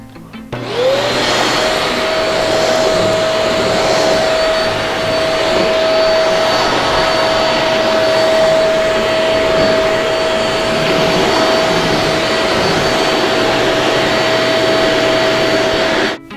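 A household vacuum cleaner runs steadily and loudly for the whole stretch, a constant whining motor drone with a high-pitched tone, alone with no talk.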